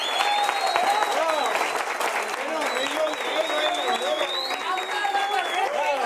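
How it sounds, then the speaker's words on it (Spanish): Guests applaud at an eighteenth birthday party, continuous clapping mixed with voices and cheering from the crowd. "y el aplauso también para este momento tan especial"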